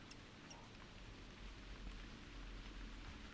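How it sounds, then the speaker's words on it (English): Steady rain falls in the hunting video game theHunter Classic, a constant soft hiss of drops with faint patter, evenly spread and continuous. "Oh, am I hearing rain?"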